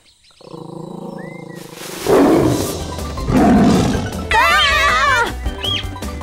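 An animated tiger in a children's jungle story lets out several loud snarling roars in quick succession, the last one rising into a wavering growl, over a soft musical backdrop with a short cartoon voice sound at the start.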